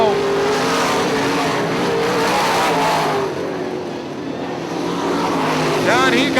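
IMCA modified race cars roar around the dirt track at Ionia Raceway Park, engines loud and sustained as they pass, under an announcer's commentary.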